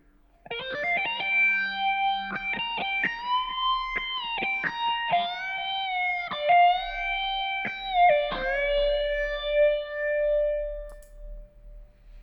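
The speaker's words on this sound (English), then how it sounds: "it's the Satch overdrive and power grid that are making that distorted sound" An electric guitar plays a sustained melodic line through a Satch overdrive and Power Grid distortion, with a swirling phaser and echoing delay and reverb tails.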